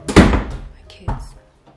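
A door is pushed shut and locked, giving a loud, close thunk followed about a second later by a second, slightly softer clunk, with quiet room tone in between.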